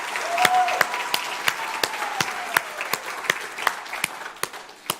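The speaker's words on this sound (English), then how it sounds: "Give those folks a round of applause." Applause from a church congregation fills the room, a broad steady clatter of many hands with a few louder, rhythmic claps standing out near the front, and faint cheering beneath.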